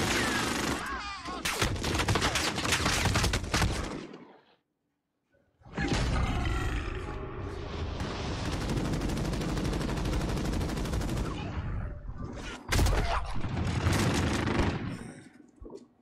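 A nuke detonates in the video game Warzone. A loud, crackling blast roars for about four seconds, then cuts to a brief silence. A long, rumbling roar follows, and a final heavy burst fades out at the end.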